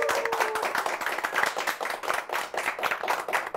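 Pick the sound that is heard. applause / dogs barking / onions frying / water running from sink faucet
applause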